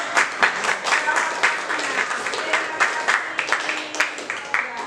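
Applause at an Indonesian teachers' training session on poetry, a steady patter of many hands with a few sharper individual claps standing out, continuing throughout.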